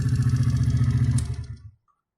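A small motorcycle engine fitted with a 72cc big bore kit and converted to a carburetor runs with a rapid, even tappety clatter, then cuts off and falls silent near the end.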